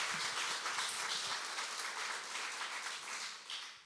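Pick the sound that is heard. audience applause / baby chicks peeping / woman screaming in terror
audience applause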